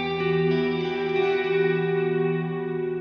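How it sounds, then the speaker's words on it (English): A guitar or instrument signal run 100% wet through the Neunaber Wet Reverberator plugin, a sustained, washy reverb tail with lush shimmering tones ringing on smoothly without any dry attack. "Now we hear only the reverb and not the dry signal like this."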